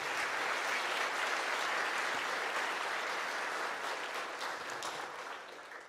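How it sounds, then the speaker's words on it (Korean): Sustained applause from a church service congregation, steady and dense throughout, tapering slightly toward the end. "저희들 감사의 박수 한번 하겠습니다"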